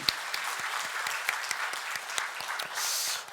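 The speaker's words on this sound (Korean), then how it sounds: "하나님께 영광의 박수 올려드리겠습니다" A church congregation at a Sunday morning service applauds in praise, a steady wash of clapping from a modest crowd with a few sharper individual claps standing out.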